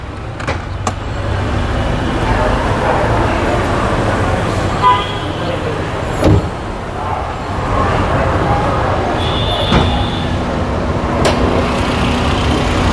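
A Toyota Allion engine, started and left idling, gives a soft, steady low hum under a continuous wash of background traffic and road noise.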